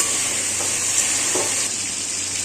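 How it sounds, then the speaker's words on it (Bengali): Steady sizzling of chicken frying in a pan, a constant hiss with a faint stir or scrape partway through. "আমার এই চিকেনগুলো ভাজা হয়ে গেছে, লাল লাল করে"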